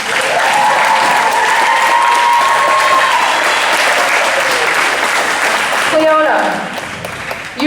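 Loud, sustained crowd applause at a school volleyball senior night honours the players, continuous and full while an announcer speaks over it.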